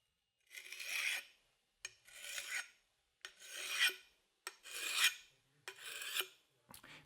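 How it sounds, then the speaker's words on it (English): A Work Sharp Benchstone diamond sharpener, used like a large file, rasps along the edge of a large tool such as an axe or hatchet in six even strokes, each a close, gritty scrape followed by a short pause. "Use the sharpener like a large file and bring it to the edge of the tool that you want to sharpen"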